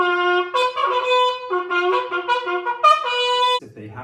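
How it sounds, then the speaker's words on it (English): A homemade natural trumpet made from tubing blows a string of bright, brassy sustained notes that shift in pitch, played close and loud with short breaks between phrases. "So this is a complete natural trumpet, just like they used to use in medieval times."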